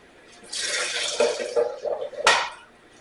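Water poured from a tap into a steamer pot holding potatoes, a splashing gush that starts abruptly, runs for about two seconds with uneven surges, and ends with a brief louder splash, heard close up.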